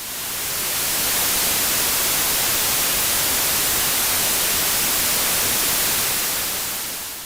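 Steady broadband static hiss from random electron movement in a conductor, an even, continuous electrical noise filling the whole stretch at a constant moderate level with no other sounds.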